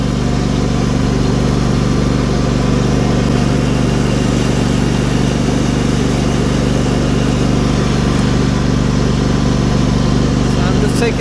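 Small lawn mower engine running steadily and loud throughout, a constant droning hum with a low rumble during the last grass cut of the year, heard close and alone without talk.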